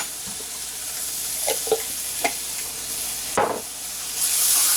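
Onions and garlic sizzle in a skillet under a steady frying hiss, with a few spoon scrapes and knocks as they are stirred. The sizzle swells toward the end, and no one talks.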